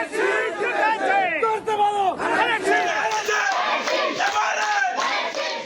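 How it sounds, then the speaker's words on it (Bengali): A large crowd of party workers and supporters celebrating an election victory roars with loud, continuous cheering and chanting, many voices overlapping at close range. "বিজয় উল্লাসে মাতোয়ারা কর্মী সমর্থক"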